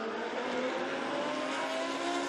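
GT race cars on track in the Blancpain GT Series Asia at Zhejiang, a loud, continuous high engine roar with no pause and no talk.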